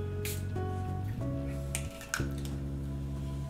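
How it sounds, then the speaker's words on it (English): Brief soft hissing puffs of an atomizer spraying absinthe into a French 75 cocktail come through a steady hum of background music, two or three short bursts. "I'm going to atomize 1 spray of absinthe inside"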